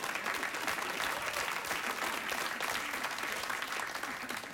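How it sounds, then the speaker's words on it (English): Sustained studio audience applause on a late-night talk show, a dense steady wash of many hands clapping at an even loudness throughout, with no voices standing out. "You just applauded an appliance"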